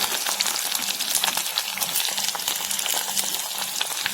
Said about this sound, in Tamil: எல்லாத்தையும் ஒன்னாவே சேர்த்து வதக்கிக்கிறேன்